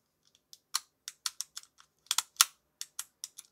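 A bicycle gear shifter, in cold winter weather, clicks in a quick, irregular run of sharp, close ticks with short gaps between them. No one speaks.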